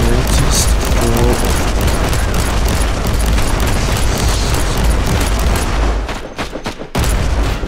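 A grenade explodes in the Warhammer 40,000: Inquisitor video game amid a dense, continuous barrage of loud booms and rapid gunfire that briefly dips near the end before resuming.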